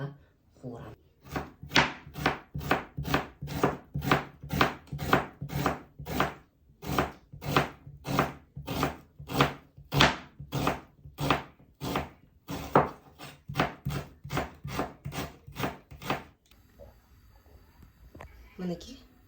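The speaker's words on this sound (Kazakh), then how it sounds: "Ең бірінші жуамызды турап," An onion is chopped with a knife on a board in steady, rapid, loud strokes that continue for about sixteen seconds before fading to quiet.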